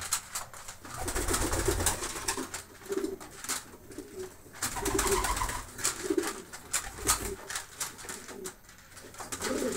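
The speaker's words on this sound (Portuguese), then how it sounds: "Tem pombo pra todo lado aí, olha lá." Pigeons feeding at night, many birds cooing in repeated low bursts close by, with fluttering and scuffling around them and no talk.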